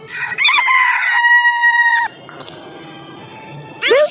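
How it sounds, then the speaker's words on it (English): A rooster crows once, loud and close, a long sustained harmonic cock-a-doodle-doo, followed by quieter rustling background and the start of a short rising call at the end. "Rooster."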